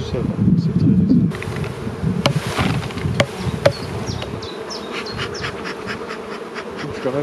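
Honeybees buzz around an open hive being smoked during a spring inspection: a steady, close swarm drone with individual bees zipping past, louder at the start and then settling into an even hum.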